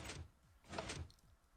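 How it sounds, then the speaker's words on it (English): Minecraft piston door opening after a button press, two broad mechanical whooshing bursts in quick succession, close and moderately loud, with no voices. "Press the button, the door will change."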